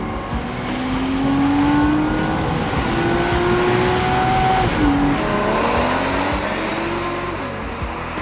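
A 2013 Porsche Boxster S engine revs hard while driving, its loud rising and falling tone swelling through the gears over steady road and wind noise, with no talking.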